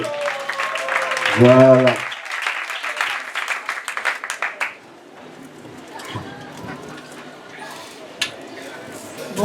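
A church congregation claps in a short burst of applause, then scattered claps continue while people talk.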